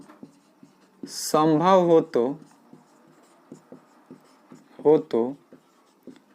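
Chalk or marker scraping across a board during a Class 10 maths lesson on circles, short strokes and taps heard close, interrupted by someone speaking Hindi.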